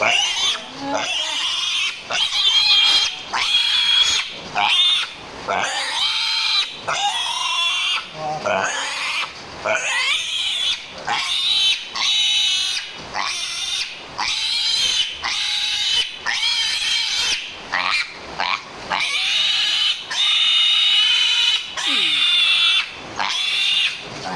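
A pig grunts and squeals loudly and close by in a long run of sharp, repeated cries with only short gaps between them.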